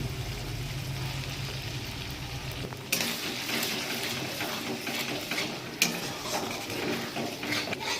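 A paste of cashew, melon seed and poppy seed is stirred and sautéed with spices in a pan for aloo dum, a steady frying hiss with scraping spoon strokes and two sharp clanks against the pan.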